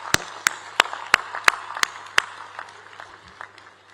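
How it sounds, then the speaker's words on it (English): Rhythmic unison clapping at a university convocation ceremony in India, welcoming an honoured guest: about seven sharp, evenly spaced claps over a softer crowd clapping that fades out. "Let us welcome my dear student Sudhir Bhai with a very, very warm applause."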